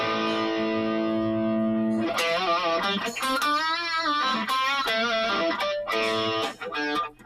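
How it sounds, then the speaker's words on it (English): Sustained tones heavily drenched in reverb and delay, with long smeared echoes trailing each note and a dense washy tail that lingers and swells without pause. "We got reverb turned up."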